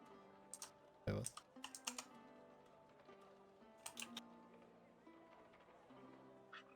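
Keys clatter on a computer keyboard in short bursts of quick taps, fairly close and crisp, with pauses between runs and a voice talking at times over the top.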